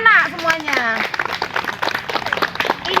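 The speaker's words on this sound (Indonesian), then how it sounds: "Tepuk tangan anak-anak semuanya" Children clap together at a school orientation at SMP Negeri 46 Palembang, a dense, sustained patter of many hands filling the room after a brief spoken voice at the start.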